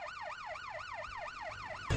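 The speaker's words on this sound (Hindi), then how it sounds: "ये तो पुलिस की सायरन की आवाज है ना" A police siren wails in a steady rising-and-falling pattern, repeating about every quarter second, loud and continuous with a soft thump at the very end and no talking.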